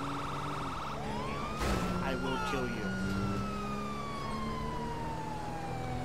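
A police car siren wails in the video game GTA 5, one long rising and falling tone over steady traffic and engine noise, while someone speaks over it.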